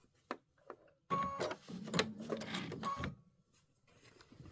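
A sewing machine stitches in the ditch through thick quilted layers at a 3.0 needle drop, a short near run of about two seconds after a few faint clicks.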